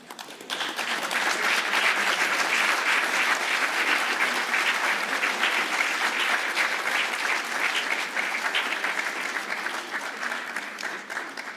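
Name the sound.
applause from conference audience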